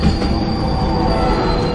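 Train wheels squealing on rails in the animated series Invincible, a loud, sustained metallic screech with a steady high whine over rumbling wagon noise, continuous and close throughout.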